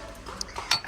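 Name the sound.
porcelain fondue plate being handled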